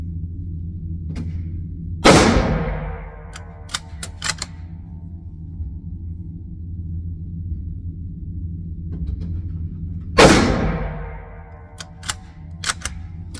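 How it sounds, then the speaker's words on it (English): A Black Creek Labs MRX Bison airgun fires two sharp, loud shots about eight seconds apart, each followed by quick mechanical clicks from the action cycling, over a low background hum. "It's gonna be a few rounds with this, seeing, you know, if it cycles properly"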